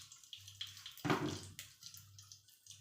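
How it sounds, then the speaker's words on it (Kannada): Mustard seeds splutter and pop in hot oil while cooking an Uttara Karnataka ridge gourd pallya: scattered crackles over a low sizzle, with one louder burst of spattering partway through, close and fairly quiet. "ಸಾಸಿವೆ ಕಾಳು ಚಟ್ ಹಾಕತ್ವ."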